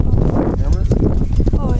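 Mules' hooves clip-clopping in quick, uneven steps close by on the ground, partly masked by people talking.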